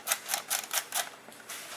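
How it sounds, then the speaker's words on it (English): An airsoft CM-022 AK47 magazine winding wheel being turned gives a quick, close run of crisp ratcheting clicks in short, evenly spaced bursts. "you should be able to do that until it makes a distinct clicking noise"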